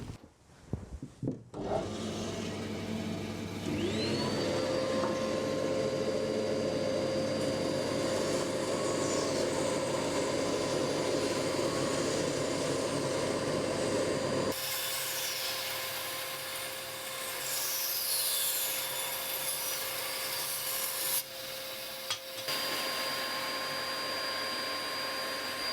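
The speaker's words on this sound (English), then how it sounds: "I'm going to tilt the table on the bandsaw over to 45 degrees" A bandsaw with its table tilted to 45 degrees cuts through wood. The motor spins up into a steady tonal whine, with a rough, rasping cut layered on it that changes character partway through, then the saw runs on alone.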